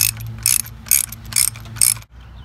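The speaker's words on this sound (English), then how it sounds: "grab our socket and ratchet and remove both the top plug and the lower plug" A socket ratchet clicks in four quick bursts while loosening 13/16 spark plugs from an outboard boat engine, each burst of sharp pawl ticks close and loud over a steady low hum, then stopping.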